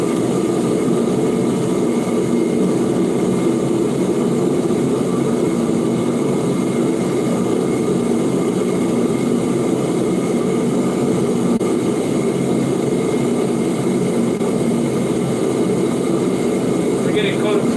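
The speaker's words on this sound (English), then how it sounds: "Noise. Yep, noise. Jet engine running." A steady, loud roar of a jet engine running continuously, a broad constant rumble with no breaks.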